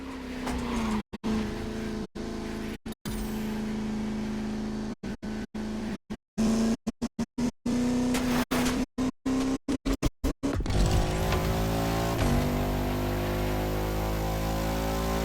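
A Bugatti La Voiture Noire, the all-black hypercar in The Crew Motorfest racing game, drones along with a steady, loud engine note, cutting out in repeated brief dropouts before revving up into a rising roar near the end.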